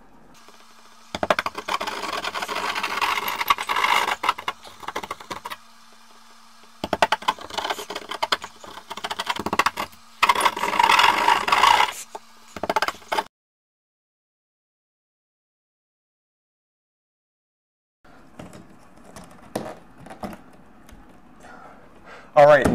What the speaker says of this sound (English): we're gonna take our drywall saw and we're gonna cut a little hole out